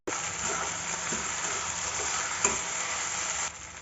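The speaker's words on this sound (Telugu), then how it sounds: "ఇవన్నీ వేసుకొని బాగా మిక్స్ చేసుకోవాలి" Egg semiya stirred in a pan with soy sauce, ketchup, chaat masala and garam masala: continuous close sizzling broken by several spatula scrapes and a sharp knock, quieter near the end.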